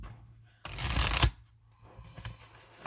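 A deck of tarot cards is shuffled once in a loud, close riffle lasting under a second, followed by quieter handling of the cards.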